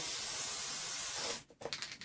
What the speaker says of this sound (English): I'm going to quickly use the spray adhesive again over here on the side on my piece of paper